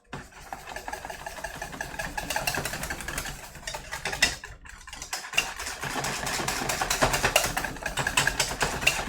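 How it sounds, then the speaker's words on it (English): A whisk beats birthday cake batter in a bowl, producing rapid rhythmic clicking and tapping strokes that run steadily for several seconds with a short pause midway. "I'm gonna grab my whisk. We're gonna whisk it."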